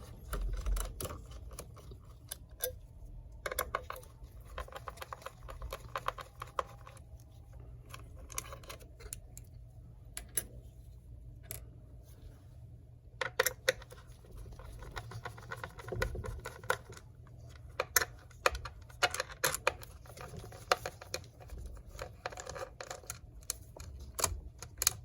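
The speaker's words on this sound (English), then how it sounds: "this is the Torque 8 screwdriver, and there are 4 screws that holds onto the hard drive" Torx T8 screwdriver working the hard drive screws out of an iMac, a faint run of small irregular ticks and clicks in a quiet room.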